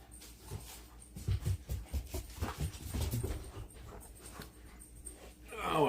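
A dog whimpers up close in a living room, with soft panting and snuffling breaths in uneven bursts that rise and fade over several seconds.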